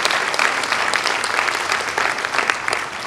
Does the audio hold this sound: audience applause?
yes